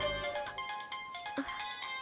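A phone rings with an incoming call, a steady electronic ringtone melody repeating clearly and alone for a couple of seconds.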